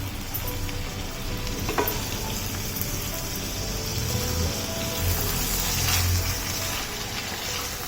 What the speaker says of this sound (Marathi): सगळं व्यवस्थित परतून घेऊया